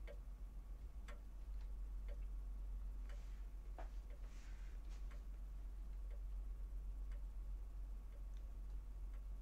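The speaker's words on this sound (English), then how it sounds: "I can hear that clock all the way upstairs." A clock ticks steadily in a quiet house in the horror video game Andromalius, a faint, regular tick-tock over a low steady hum with no talking.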